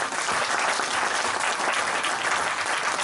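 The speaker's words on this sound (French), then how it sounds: "On peut donner une acclamation" Steady, dense applause from a church congregation during a pastor's sermon, continuous and loud throughout with no pauses.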